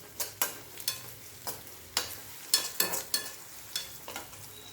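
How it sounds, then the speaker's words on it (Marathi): Onion and crushed garlic are sautéed in a pan for a bitter gourd dish, with a spatula scraping in a quick, even rhythm of sharp strokes over a soft sizzle. "व्यवस्थित असा परतून घ्यायचा आहे गुलाबीसर कांदा परतत आल्यानंतर त्यामध्ये थोडासा ठेसलेला लसूण घालायचा आहे"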